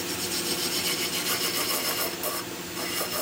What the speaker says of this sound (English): I'll try this bowl gouge out and see if it's any good.